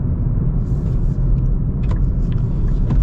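A 2025 Nissan Z with a manual gearbox rumbles loudly from inside the cabin, its engine droning low and steady through a rev-matched shift.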